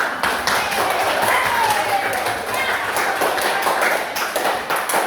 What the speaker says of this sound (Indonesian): Untuk semua setiap kelompok, mari kita tepuk tangan dengan hasil.